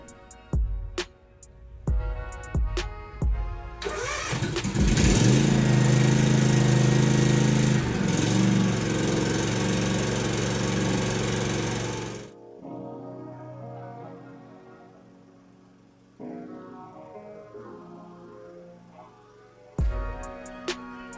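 Cub Cadet ZT1 zero-turn mower engine cranks over several times, catches and roars loudly and steadily close by, then drops to a lower idle with shifting tones and a few clicks.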